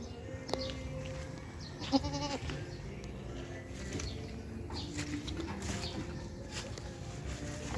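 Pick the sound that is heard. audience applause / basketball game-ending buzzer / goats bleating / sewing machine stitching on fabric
goats bleating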